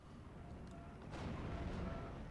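A Pak 40 gun fires on a Cromwell tank in the Steel Division wartime strategy game: a single faint, distant cannon thump over low background rumble.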